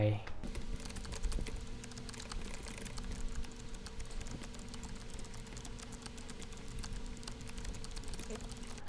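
Steady rapid typing on a computer keyboard while writing trading-indicator code, close and continuous clicking throughout at a quiet level, with soft spoken narration.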